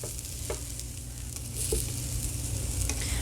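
Sweet potato pancakes fry in a pan on their second side, a close, steady sizzle with soft crackles that swells slightly midway, with no voices.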